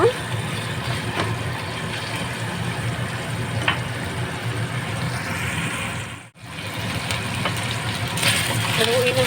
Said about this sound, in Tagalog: Ayan, igisa na natin muna ito.